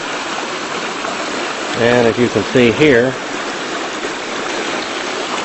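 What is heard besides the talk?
water flowing over a garden bridge in a creek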